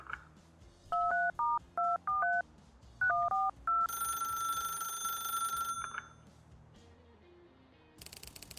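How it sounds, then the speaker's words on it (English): Telephone dialing tones in the video game The Ratline: a quick run of clean beeping keypad tones in two bursts, then a long sustained ringing tone and a short buzzy burst at the end, with no talk. "Everybody's answering the phone this time."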